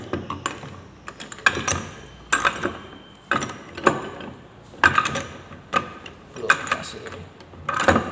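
Metal parts of a Toyota Kijang 4-speed manual transmission being fitted as a shift fork is seated into its groove: a string of sharp clicks and clanks in irregular bursts, close and fairly faint.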